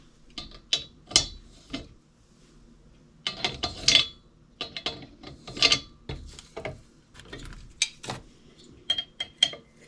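A stuck screw is worked loose on a 1964 Coleman lantern, with close, scraping metallic clicks and gritty grinding in uneven bursts, alone and fairly loud.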